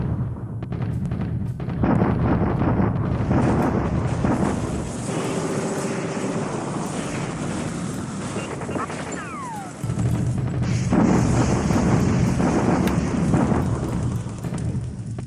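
Artillery bombardment in the strategy wargame War in the Pacific, heard as heavy rolling booms and rumbling blasts that go on continuously, with a brief dip near the middle before the barrage swells again.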